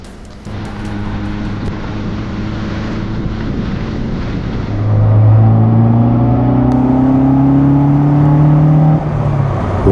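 An old car cruising in fifth gear on a long road trip toward Russia, its engine a steady low drone with rising harmonic tones under wind noise, louder and fuller in the second half, no voices.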